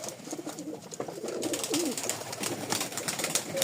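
Pigeons coo softly at close range, with a few low rolling calls over a steady background hiss.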